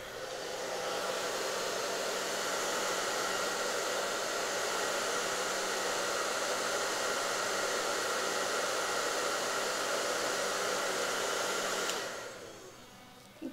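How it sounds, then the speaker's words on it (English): A handheld blow dryer on a high setting roars steadily and loudly for about twelve seconds, used to heat nail wraps, then switches off into near silence. "Now you want your blow dryer on a high setting"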